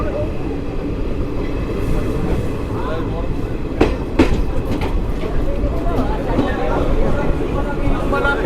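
Hazarduari Express 13113 standing at a station on the Kolkata–Lalgola run, with a steady rumble of train and platform noise throughout and a few sharp clanks in the middle, while voices talk over it.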